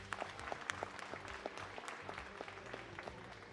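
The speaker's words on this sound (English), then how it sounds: "Let's give these two girls a great big round of applause" A crowd at a county livestock sheep show claps for two girls showing sheep, a steady patter of applause with sharp individual claps standing out, fairly faint and distant in a large arena.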